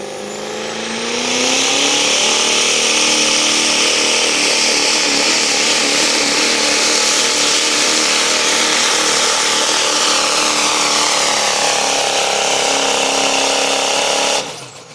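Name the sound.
Chevrolet Duramax pickup truck engine at a tractor pull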